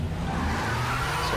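Car racing from the Real Racing 2 video game: a steady roar of engines with tire squeal and skidding, fairly loud and continuous, no speech.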